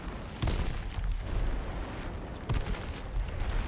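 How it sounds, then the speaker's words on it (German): Grenades go off in the online shooter game H1Z1, heavy booming blasts with two sharp impacts over continuous rumbling noise, loud and dense for the whole stretch with no voices. "Das sind doch Granaten."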